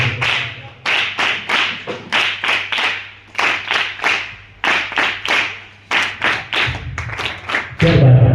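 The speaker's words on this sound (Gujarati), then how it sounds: "અભિવાદનની અંદર આપણે સરસ મજાની તાળીઓથી બેન શ્રીનું અભિવાદન કરીશું" An audience at a one-day music camp at Vinoba Ashramshala in Gadat claps to welcome a guest, in sharp rhythmic bursts of hand claps with short gaps between them, close and loud, over a faint steady hum.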